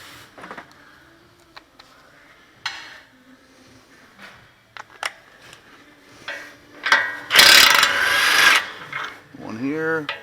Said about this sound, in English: go ahead and take your two 19mm lower ball joint bolts loose.